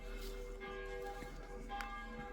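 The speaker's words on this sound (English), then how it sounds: "Honestly, I never known a church bell to go off that much" A church bell rings in Knaresborough, its tones sustained and overlapping through the whole stretch with strikes near the start, middle and end, heard at a moderate distance over steady outdoor background noise.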